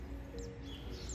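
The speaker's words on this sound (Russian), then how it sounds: "Птички поют, их здесь бывает просто неограниченное количество." Faint bird chirps come through a steady low hum on a morning in Italy, a few short high calls scattered across the moment.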